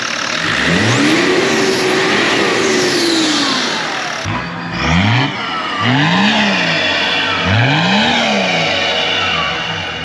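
A modified BMW E36 325 TDS diesel engine revs up and down several times, rising and falling pitch in repeated swells, loud and close with a whirring turbo-like whine.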